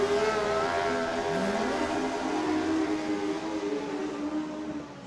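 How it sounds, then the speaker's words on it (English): Racing motorcycle with a cross-plane engine at the Vic Championships race meeting, a loud continuous engine drone with a pitch sweep as it pulls away under torque, steady and close throughout. "He's running a cross-plane engine. Just the sound of that"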